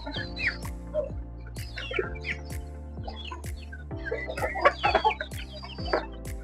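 Chickens of the Brahma and Goliath breeds cluck repeatedly on a poultry farm, close and clear, with several birds calling in irregular bursts over a low steady background hum.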